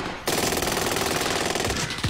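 Call of Duty gameplay gunfire: a rapid automatic burst rattles continuously for about two seconds, loud and dense, with no talk over it.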